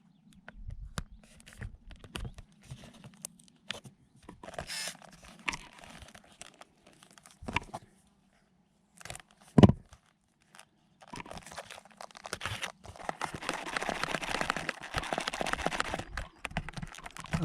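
Crinkling tape and scratchy cutting handle noises come up close during a hands-on fix of a foam FPV plane with tape and a knife. The sounds arrive in scattered bursts with a sharp snap midway, then grow into a dense, steady rustle.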